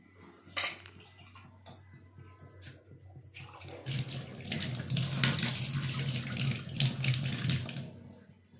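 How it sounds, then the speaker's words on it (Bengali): Tap water running onto a hand at a family outing in Bengal, a splashing gush that starts after some small clinks and knocks and continues loud and steady for several seconds. "এটা তো একটু জল দিয়ে দিস তো হাতে করে"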